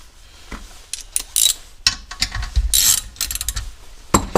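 Ratchet wrench loosening a 10 mm bolt on a bracket at the carburetor of a Kohler Command Pro engine, a few short bursts of quick clicking with pauses between, close up with no speech.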